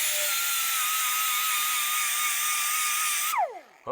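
An air compressor runs steadily in a workshop with a loud, even motor whine that winds down and stops near the end, and no one talks.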